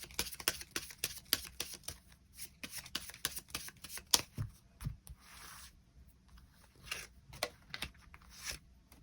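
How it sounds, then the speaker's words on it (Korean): Tarot cards are shuffled and drawn up close in a quiet room, making a run of crisp flicks, riffles and soft slaps in an uneven rhythm, with no speech. "카드 뽑아보도록 하겠습니다"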